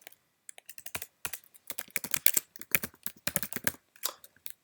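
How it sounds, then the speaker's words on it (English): Computer keyboard keys clatter in quick irregular bursts while an email address is typed into a server config file, close and fairly crisp with brief pauses between runs of keystrokes, no voices. "we're going to go ahead and type in our email address"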